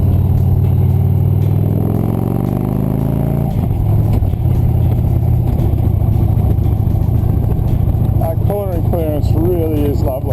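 A Victory Cross Country bagger motorcycle rumbles along the open road, its engine note rising steadily before settling into a constant drone, with someone talking over it the whole time.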